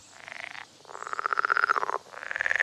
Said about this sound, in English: Male frogs croak to try attract the female.